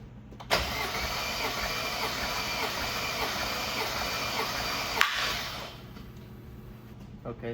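Mercedes S550 V8 cranking on the starter during a compression test, a steady rhythmic churning whir for about four and a half seconds that cuts off abruptly, leaving a faint hum.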